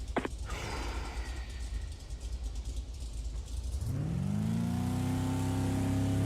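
Race cars revving in a rallycross video game as the grid fills, a loud engine rumble that builds into a sustained, steady drone in the second half.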